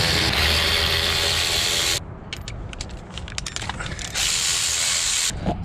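A ratchet wrench clicks rapidly and steadily as 12 mm bolts are spun out near a car's starter, pausing briefly before the clicking resumes, loud and close.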